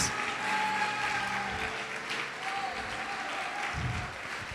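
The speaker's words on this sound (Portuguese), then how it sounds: "Você pode aplaudir" A church congregation applauds during a sermon, a steady wash of clapping filling the room at moderate volume, with faint tonal sounds beneath.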